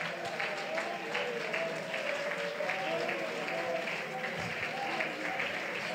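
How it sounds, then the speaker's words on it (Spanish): A church congregation claps loudly and steadily throughout, with a dense, continuous wash of hands and a voice speaking over the applause. "Apláudale fuerte a él."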